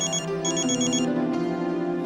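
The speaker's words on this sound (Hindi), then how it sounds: "मम्मी का फोन है, फोन उठा लो" Mobile phone ringing with an incoming call, a steady melodic ringtone pattern playing continuously at moderate loudness, with no voices over it.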